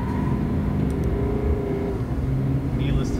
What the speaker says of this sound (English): So we're gonna go ahead and do a 0-60 run.